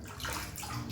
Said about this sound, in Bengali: মাথায় একটু জল দিয়ে দেবো, ব্যাস।